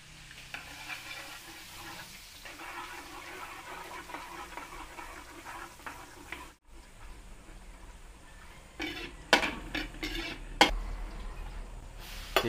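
Garlic sautés in margarine in a pan, giving a soft, steady sizzle with stirring scrapes and a few sharper clinks near the end.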